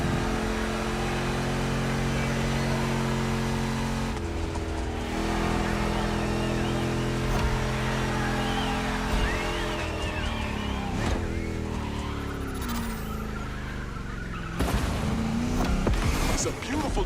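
Car engines rev and drone in The Crew Motorfest, a racing game set in Oahu, Hawaii, with a loud, sustained engine tone that shifts pitch as the cars accelerate.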